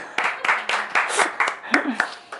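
A small group in a church Bible class claps in uneven, scattered bursts, sharp close hand claps mixed with voices talking and exclaiming over them.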